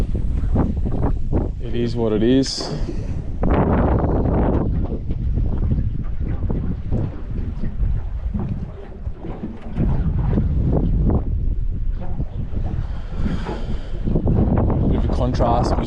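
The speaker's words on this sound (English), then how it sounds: "The wind wants to spin me around, so looks like a bit of back of boat fishing" Gusty wind roars and buffets across a small fishing boat on the Hawkesbury River, a heavy rumbling rush that swells and eases while someone speaks briefly.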